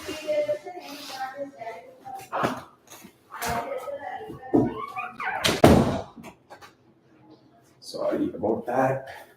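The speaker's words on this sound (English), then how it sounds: "Let me close the door." An indoor door pulled shut during a study session, giving a brief thud with rustling movement around it, while a person talks before and after.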